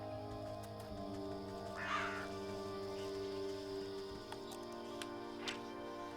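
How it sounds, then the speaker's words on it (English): Crows caw in the video game Wytchwood, a short harsh call standing out over a soft, steady ambient game score, with a faint second call later. "Oh, those aren't bats. Those are crows."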